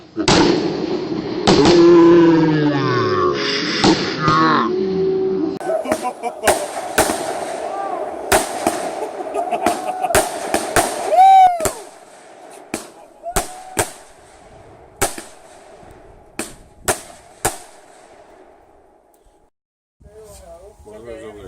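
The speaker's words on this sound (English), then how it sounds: "Tons of fireworks." Fireworks burst at a rowdy outdoor party, first under loud talk, then as a string of sharp separate bangs and crackles, some close and some further off, spaced irregularly and fading toward the end.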